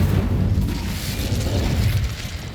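A fiery blast from an Incendio spell in Hogwarts Legacy roars out as a sustained, noisy burst that stays loud for a couple of seconds, with no voices over it.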